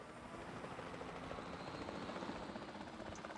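A helicopter in the video game Jurassic World Evolution 2 gives a steady, broad rotor and engine roar that holds at an even level throughout, with no talk over it.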